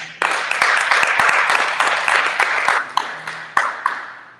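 A crowd applauds at a grand opening, a dense, steady wash of many hands clapping close by for several seconds, with no talk over it.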